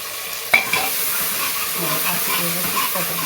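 Potatoes sautéed and stirred in a pan for moong dal khichdi, a steady sizzle with a sharp utensil clatter near the start and scraping strokes through the rest, close and alone.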